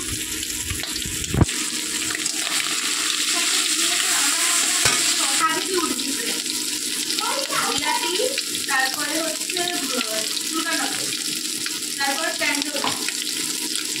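Radhuni seeds tempering in hot oil after frying prawns, a steady close sizzle with scattered crackles and utensil stirring, a sharp knock near the start and faint talk in the background.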